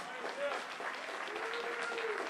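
Crowd applause at a live event, a steady wash of clapping from a room full of people, fairly quiet and distant, with voices over it.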